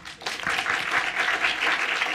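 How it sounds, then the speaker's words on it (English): Audience applause at a talk, rising quickly after a brief quiet start into a steady, fairly loud round of clapping from a modest crowd that holds through the rest. "Not too much applause"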